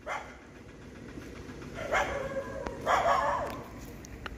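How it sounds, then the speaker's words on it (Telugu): Dogs bark in a few rough bursts at a middle distance over a steady low background hum. "కుక్కల అరుపులు అయితే చాలా దారుణంగా ఉన్నాయి"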